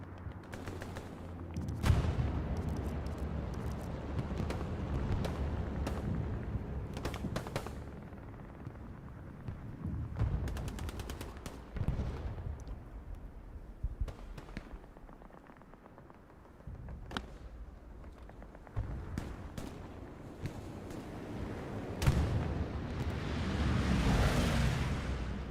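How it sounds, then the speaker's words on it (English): Bombing-run explosions in the World War II shooter Hell Let Loose, on the Stalingrad map, thud and rumble at a distance with scattered gunfire, continuing faintly across the stretch with no voices. "Bombing run called in from the Axis member."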